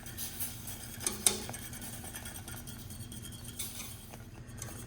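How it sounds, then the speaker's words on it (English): A whisk stirring runny cornmeal polenta in a pot, soft scraping and swishing with a few sharp metallic clinks against the pot's side, close and moderately quiet, no speech. "I'm going to stir this with a whisk and get all the lumps out."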